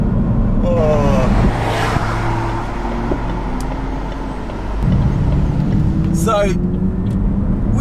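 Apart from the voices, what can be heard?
McLaren 570GT accelerating, engine and turbo whistle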